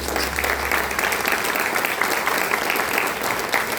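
Congregation applauding during a church communion service, a sustained wash of many hands clapping with a faint low hum at the start.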